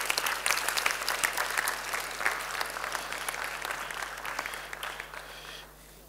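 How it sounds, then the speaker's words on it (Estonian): Conference audience applauding panel discussion participants, dense clapping from many hands that stays strong and then thins out and fades near the end. "ühe suure aplausi."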